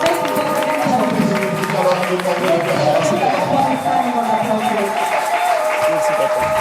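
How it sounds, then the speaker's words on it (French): A church congregation at a celebratory worship service cheers and shouts for joy, a dense, continuous crowd roar with scattered clapping and voices blending throughout. "Par les acclamations et les cris de joie"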